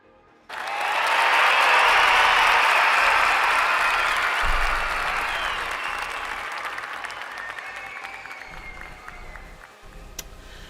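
A cheering-and-applause sound effect played by a Mycroft voice assistant starts abruptly as a loud crowd roar with clapping, then slowly fades across about ten seconds with no one speaking over it.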